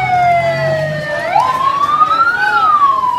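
A fire engine arrives at a burning empty house in Mudalang village, Tanah Bumbu, South Kalimantan, its loud siren wailing nearby with rising and falling sweeps over a low engine rumble.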